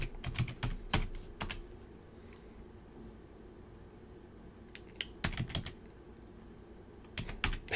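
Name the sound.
typing a password on a computer keyboard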